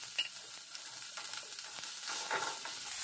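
Grated carrot with green chilli, curry leaves and tempering spices fries in hot oil for a sabudana curd rice, giving a soft continuous sizzle with light stirring scrapes, close and fairly quiet.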